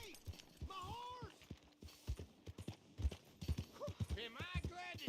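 Horse hooves clopping in the Red Dead Redemption 2 video game, an uneven run of hoof strikes close by with a whinny, mixed under character voices speaking.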